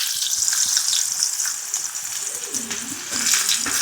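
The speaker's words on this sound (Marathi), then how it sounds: "तर याच्यामध्ये मी कांदा टाकून देते" Chopped onion drops into hot oil and sizzles loudly and steadily throughout, close to the mic. A faint voice comes through briefly near the end.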